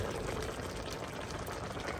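Water is poured into a pot of pakbet vegetable stew, a continuous soft splashing rush that stays faint and even throughout.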